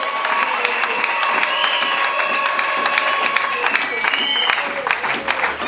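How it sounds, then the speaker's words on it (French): A crowd at a church's 25th anniversary celebration breaks into sustained applause, a steady wash of many hands clapping with cheering and voices woven through, loud and continuous for the whole stretch. "Est-ce que vous pouvez applaudir pour vous-même?"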